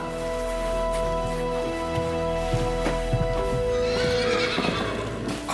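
A horse gives a whinny amid steady background ambience with faint hoof clops, followed by a brief rush of noise, heard alone with no talking.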